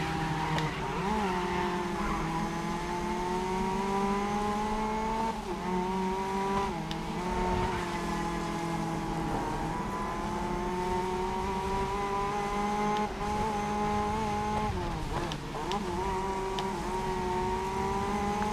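A race car in the racing video game GRID Legends drives continuously, its engine droning and shifting pitch steadily under load, loud and unbroken with faint tyre noise.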